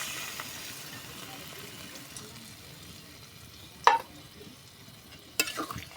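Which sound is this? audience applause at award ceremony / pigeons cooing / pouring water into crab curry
pouring water into crab curry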